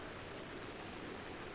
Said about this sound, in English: hopefully the rain will let up by then